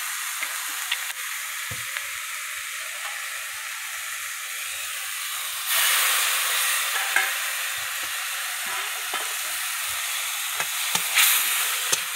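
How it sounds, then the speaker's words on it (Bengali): Tomatoes with salt and sugar being stirred in a hot wok give a steady sizzle with occasional scrapes of the spatula, growing louder and brighter about halfway through, close up and with no one talking. "তো এবার একটু চিনিও দিয়ে দেবো, একসঙ্গে নাড়বো।"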